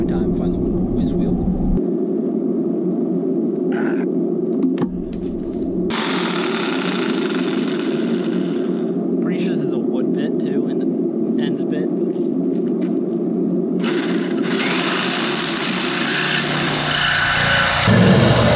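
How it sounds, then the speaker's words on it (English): Corded Sawzall reciprocating saw cutting into an E30 BMW body during an aero kit install, a steady loud buzzing drone running almost continuously, with short pauses near the start. "I'm going to try with the Sawzall"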